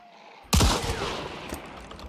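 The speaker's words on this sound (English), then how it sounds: "That gun's so loud." A loud gunshot from a weapon in the game Hunt: Showdown cracks out suddenly after a quiet moment, followed by a long rolling echo that fades slowly.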